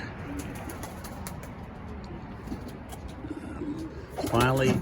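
Pigeons in a loft during breeding season coo softly and repeatedly in the background, with a louder, nearer coo rising at the end and a faint voice under it.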